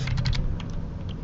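Quick bursts of keystrokes on a computer keyboard as a website address is typed, a few fast close clicks over a low background hum.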